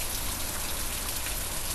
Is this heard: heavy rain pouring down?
yes